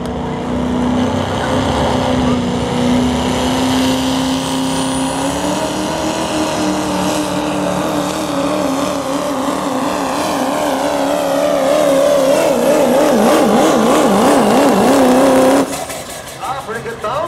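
A Duramax diesel pickup roars loudly through a truck pull at a Hillsboro, Wisconsin event, its engine droning and climbing in pitch with a wavering rev before dropping off near the end, while an announcer talks over it.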